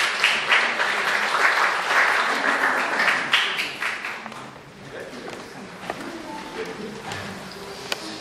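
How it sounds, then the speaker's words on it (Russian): Audience applause at a humorous song-poetry club concert, loud dense clapping from a crowd that swells and then gradually fades, with scattered claps lingering at the end. "Аплодисменты."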